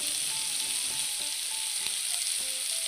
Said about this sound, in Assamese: এতিয়া এইখিনি ৰঙা হোৱালৈকে ভাজি ল'ব লাগিব